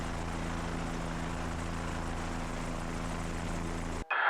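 A helicopter flies overhead during a heli-torch prescribed burn, its engine and rotor making a steady, droning hum with a clear tonal whine, held evenly before cutting off abruptly near the end.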